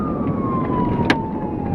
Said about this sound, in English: with sirens blaring and tires screeching as they closed in on the suspect